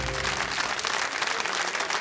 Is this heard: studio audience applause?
yes